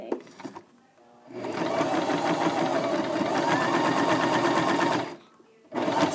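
Sewing machine stitching a scarf, a brief start, then a steady fast mechanical whirr running for about four seconds before stopping and starting again, close and clear.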